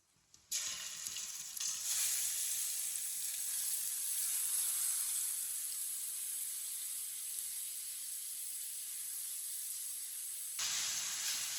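Grated carrots for gajar ka halwa drop into warm oil and set off a loud, steady sizzling hiss. It starts abruptly after a brief quiet moment and continues unbroken, easing slightly near the end.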